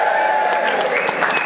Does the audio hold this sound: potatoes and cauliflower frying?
no